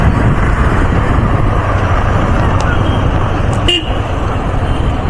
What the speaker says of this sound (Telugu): ఫుల్ ట్రాఫిక్ ఉంది.